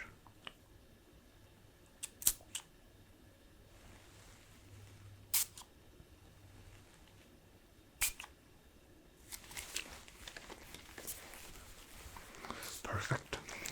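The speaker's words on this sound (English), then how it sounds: "Let's get a few spritzes and sprays just for further relaxation." A spray bottle spritzes several times during a quiet ASMR lab roleplay: short, crisp hissing bursts spaced a few seconds apart, then a denser cluster of soft sprays and rustles near the end, with faint whispering.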